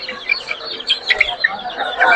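Young Silkie chickens, a rooster and hen about forty-five days old, cluck and chirp in quick, busy bursts at a crowded bird market, fairly close, with faint voices mixed in behind.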